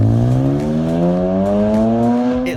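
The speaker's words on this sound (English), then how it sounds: "The engine sounded amazing." A Mazda rotary racing engine revs continuously at high pitch, its tone climbing steadily as it accelerates, loud and close with no voices.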